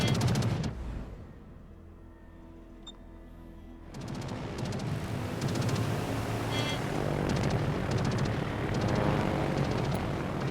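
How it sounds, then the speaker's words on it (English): In the naval battle video game World of Warships, a flight of torpedo bombers heads toward an enemy aircraft carrier with a droning aircraft engine roar that swells and fades amid distant booms and battle noise. "Another flight with torpedoes, again heading towards the enemy aircraft carrier."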